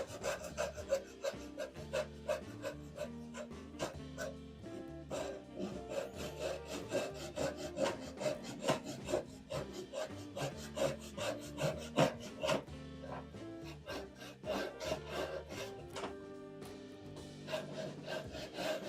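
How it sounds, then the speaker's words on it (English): A handsaw cuts through a clamped wooden board in a home woodworking shop, with steady rhythmic rasping strokes, close and fairly loud, repeating for the whole stretch with no talk. "Because usually when I have like one cuts like this, I just use a handsaw."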